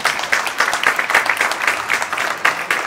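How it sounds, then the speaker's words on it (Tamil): A crowd at a Chithirai Thiruvizha fancy dress event claps for the children, a brisk, close round of applause with rhythmic pulses running throughout. "சோ இங்க இருக்க எல்லா குழந்தைக்கும் ஒரு பெரிய கைத்தட்டல் கொடுத்துருங்க பார்க்கலாம்."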